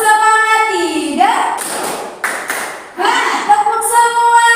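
A classroom group does rhythmic spirit clapping, a few sharp bursts of hand claps and thumps between stretches of sung or chanted voices, close and fairly loud.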